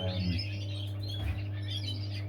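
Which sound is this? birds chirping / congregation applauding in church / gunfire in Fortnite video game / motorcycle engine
birds chirping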